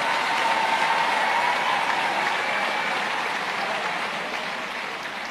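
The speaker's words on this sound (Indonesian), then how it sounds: "Sekali lagi tepuk tangan untuk panitia kita." Sustained applause from a congregation honoring the organizing committee at an anniversary mass of the Archdiocese of Semarang, broad and even for several seconds before easing slightly toward the end.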